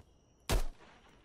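A single sharp gunshot in a first-person survival shooter, one loud close crack with a short rumbling tail, fired after a moment of quiet.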